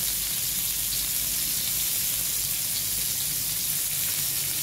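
Garlic and tomato sauté in hot oil in a pan for a clam dish, a dense, even, close sizzle running unbroken throughout with no talking.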